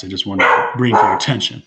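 A pet dog barks a few sharp times during a town selectmen's meeting held remotely, its barks overlapping and briefly mixing with someone speaking.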